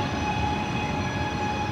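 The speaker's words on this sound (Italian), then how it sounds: "Fermata di Bellano Tartavalle Terme del treno Coradia Meridian per Tirano." A Coradia Meridian train at Bellano Tartavalle Terme station, on a service to Tirano, gives a steady rumble with a faint whine, heard close and continuous.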